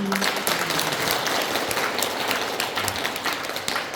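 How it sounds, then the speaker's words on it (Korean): Big round of applause at a Buddhist college graduation and entrance ceremony at a temple, steady dense clapping from a large audience throughout, loud and sustained. "다시 한번 큰 박수 부탁드립니다"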